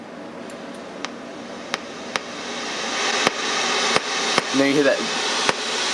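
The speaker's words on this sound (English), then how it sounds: "kind of sounds like maybe like a record popping, right? And you hear that white kind of noise in the background." A Behringer RD-8 drum machine with drive turned up gives off scattered sharp pops and crackles like a record, over a steady bed of white-noise hiss, while someone talks briefly.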